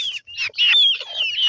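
Local country chickens clucking close by in a backyard coop, a steady run of short overlapping clucks and calls with brief pauses, no talking.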